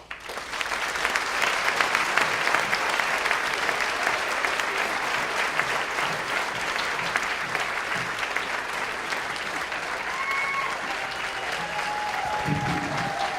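Audience at a county Teacher of the Year gala applauding in a loud, continuous wash of clapping that holds steady for the whole stretch, with a few faint whistles and cheers near the end.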